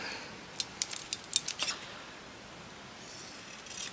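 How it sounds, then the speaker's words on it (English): Scissors snip fabric and cotton while a snippet roll is being made, a quick cluster of short, faint, close crisp cuts followed by quiet. "Let me just get my scissors."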